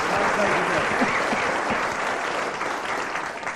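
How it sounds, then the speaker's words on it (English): Studio audience applauding Graeme Garden on a radio comedy panel show, a dense, even burst of clapping that holds steady and fades slightly toward the end. "Graeme Garden, let's have a round of applause for Graeme Garden."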